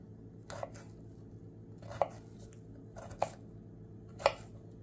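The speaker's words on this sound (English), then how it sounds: "And then you just slice." Kitchen knife slicing through peppers on a cutting board: four crisp, separate chops spaced about a second apart, close and clear over a quiet room hum.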